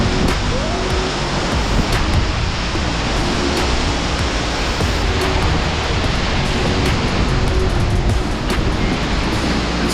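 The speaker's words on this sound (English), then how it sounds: "The force of the waterfall is very heavy." Jogini waterfall in monsoon near Manali, a loud continuous roar of heavily rushing water filling the whole space, steady and close.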